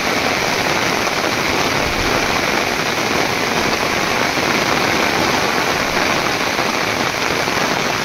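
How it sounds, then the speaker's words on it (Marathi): Heavy evening rain falls in the jungle, a loud, dense, unbroken roar of drops on foliage and ground that stays constant from start to finish, with no talking. "जोरदार पाऊस सुरू झाला आहे"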